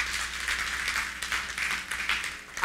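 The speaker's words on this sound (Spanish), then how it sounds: "¿Cuánto le da un aplauso al Señor en esta noche," A church congregation gives a round of applause during an evening service, a continuous wash of many hands clapping at moderate volume with no one speaking.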